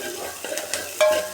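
Green chili and onions sizzle in a kadai while a utensil stirs and scrapes them, soft sizzling with a few scraping strokes and a sharp clink near the end.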